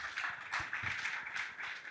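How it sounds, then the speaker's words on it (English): An indoor audience at a leadership panel claps for the panelists, a steady, moderate round of applause heard from the crowd without any voices. "can we give them another round of applause?"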